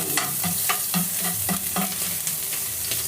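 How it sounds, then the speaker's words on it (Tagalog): Ginger drops into hot cooking oil as the first step of Filipino papaitan, a close, steady sizzle punctuated by rhythmic scraping stirs about twice a second, no talking. "So ilalagay na natin yung luya."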